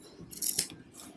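Scissors cutting folded paper in a V shape, a single short crisp snip close by, quiet and alone.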